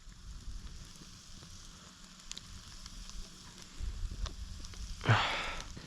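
Chunks of cheese sizzle in a pan over an outdoor campfire, a faint, steady crackle with a brief louder hiss flaring up near the end as more lands in the hot pan.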